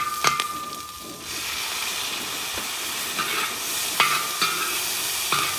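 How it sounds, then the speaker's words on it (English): Shrimp frying in oil in a cowboy wok for fried rice, a continuous loud sizzle with a few metallic scrapes and clanks from stirring, no voices. "we're stirring this just to get that oil touching everything"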